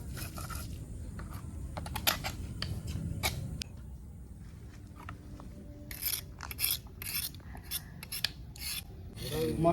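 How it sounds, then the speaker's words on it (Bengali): Cumin and spices ground into paste by hand on a grinding stone, with rough rasping, rubbing strokes in irregular bursts, close and fairly quiet, louder scraping passes near the end. "একটু জিরে নিয়ে দিয়ে দিলাম, বেটে দেবো।"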